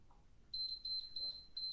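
A workout interval timer beeps during an upper-back and arms dumbbell session, giving a loud, high electronic tone in repeated short beeps with no one talking.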